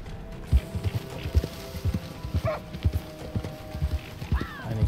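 In Red Dead Redemption 2, a horse's hooves clip-clop in a steady walking rhythm over a low ambient bed, with a faint whinny-like sound near the end.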